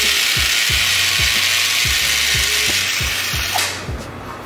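An infusion pump for a subcutaneous immunoglobulin (Hizentra) infusion runs with a steady mechanical whir and regular ratcheting clicks about twice a second, fairly loud and close, easing off near the end.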